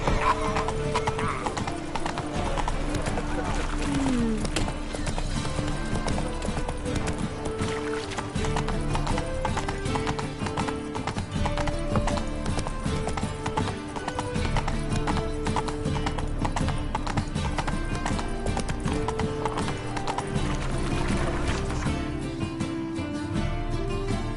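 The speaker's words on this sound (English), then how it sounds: "Run, Roach" Roach the horse gallops in The Witcher 3, a continuous rapid clip-clop of hooves with an occasional neigh, loud and close over a constant backdrop of game music throughout.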